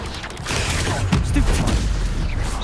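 Incendio fire spell cast in the Hogwarts Legacy video game, a short whooshing burst of flame with a booming, crackling rush that swells after a brief lead-in and holds loud to the end.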